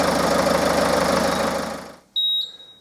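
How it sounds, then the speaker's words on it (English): A diesel engine idles steadily during a fuel system cleaning treatment, a dense continuous rumble that fades out before a short, loud electronic beep sounds alone. "a diesel engine on idle will take around about 45 to 50 minutes to use a complete treatment"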